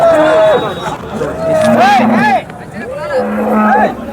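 A cow gives several loud, drawn-out moos close by at the Sangola cattle market, with a murmur of people and general market bustle in the background.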